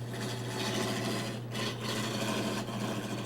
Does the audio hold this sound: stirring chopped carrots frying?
no